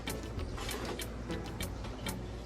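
A whisk beating the ingredients for a one-pan chicken and rice dish, heard as quick, repeated scraping and ticking strokes against the vessel at a brisk, even rhythm, close up and moderately loud.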